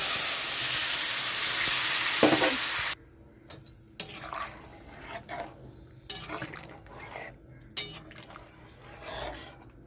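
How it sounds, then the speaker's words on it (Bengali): Water poured onto fried spice paste in a hot pan for a rohu fish curry with green banana and potato bursts into a loud hissing sizzle for about three seconds, then gives way to quieter clinks, stirring and bubbling. "মশলাটা কষানো হয়ে গেছে, এখন আমি জল দিয়ে দিচ্ছি"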